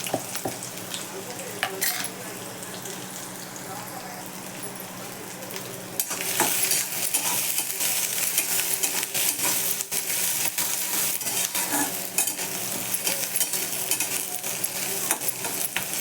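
Onion sizzles in hot oil and is stirred in a pan for a kurdu leafy-vegetable dish, with a steady frying hiss, occasional metallic scrapes of a spoon and a louder burst of sizzling partway through.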